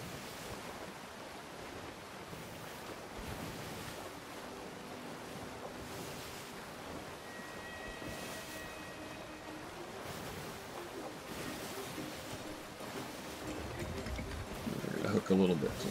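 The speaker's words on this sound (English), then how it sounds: "And just keep sailing off onto the waves." Ocean waves wash and surge around a sailing ship in Sea of Thieves, a steady rushing swell with wind noise, continuous at moderate level and building near the end, while someone talks over it.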